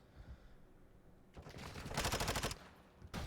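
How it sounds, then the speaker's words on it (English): Gunfire in a competitive shooter video game match bursts out as rapid automatic fire, climbing into a dense, loud flurry of shots before a sharp final report. "Just a flurry of gunfire."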